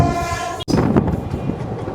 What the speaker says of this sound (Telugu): ఇప్పుడు రోడ్డుగం రైల్వే బ్రిడ్జ్కి ఎంటర్ అవుతున్నాం